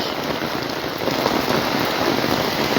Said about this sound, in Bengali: যেভাবে বৃষ্টি হচ্ছে কদিন থাকে বলা যায় না